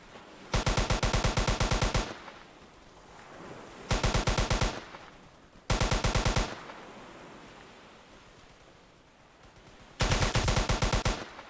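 Rapid automatic gunfire from the World War II shooter game Easy Red 2, four loud sustained bursts of about a second or two each, separated by quieter stretches of distant battle noise.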